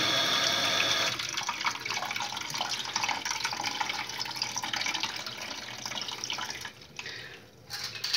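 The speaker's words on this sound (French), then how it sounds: "On va ouvrir un petit peu de l'eau." Water runs from a tap into a clogged kitchen sink, a steady rushing splash that softens after the first second and continues with faint dripping, close and without talk.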